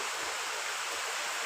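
Rain pours outside onto plants, a steady, even hiss of falling water filling the whole moment without pause.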